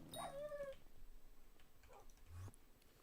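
A cat gives a short, rising meow near the start, followed by faint rustling and a few soft background noises in a quiet room.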